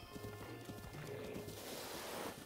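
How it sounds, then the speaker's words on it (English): A horse gallops in The Legend of Zelda: Breath of the Wild, with rapid clip-clop hoofbeats over steady game ambience and music, close and moderately loud throughout. "I'm just gonna run them over with my horse"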